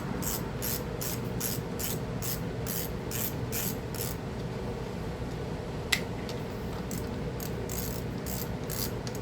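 A hand ratchet with a 7mm socket loosens the carburetor bolts on a Craftsman 2800 pressure washer, giving a rapid run of close, crisp clicks that pause midway, with a single sharp tap, and then resume.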